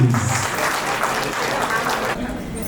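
Audience applause at a retirement ceremony, a dense, steady burst of clapping from a crowd that holds for about two seconds and then drops away.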